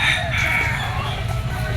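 A fighting rooster crows loud and close, one sustained harsh call that fills the short stretch, with no talk over it.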